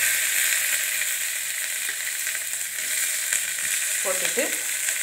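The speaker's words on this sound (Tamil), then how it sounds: "பொரிஞ்சு சிவக்கும்போது நம்ம இந்த வெங்காயம் கருவேப்பிலை மிளகாய் இருக்குல்ல, பாருங்கள் நல்லா பொரிய ஆரம்பிச்சிருச்சு." Onion, curry leaves and chillies sizzle steadily while frying in a pan, a close continuous crackle with a brief clatter of a utensil near the end and no talk.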